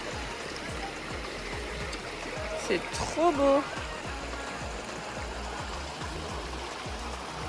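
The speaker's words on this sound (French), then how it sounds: "On a trouvé une petite rivière là pendant notre randonnée." Small river running over rocks during a hike, a steady close rushing and trickling wash that continues throughout, with a voice speaking briefly over the water midway.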